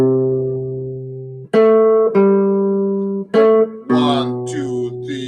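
Guitar plays the melody of a song straight as written, a short run of clear sustained single notes and chords with rich harmonics, close and alone, with a brighter flurry of notes at the end.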